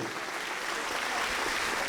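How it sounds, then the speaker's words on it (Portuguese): Congregation at a church service in São José dos Campos giving a round of applause for Jesus, a sustained dense roar of clapping that holds steady and swells slightly, loud and enveloping with no distinct voices. "Vamos dar para Jesus a salva de palmas"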